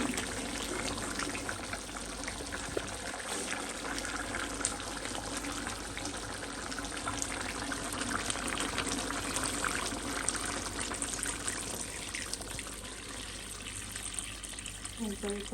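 Water poured into a pot of cooking meat, a steady close splashing and running pour lasting throughout, with a voice speaking faintly underneath.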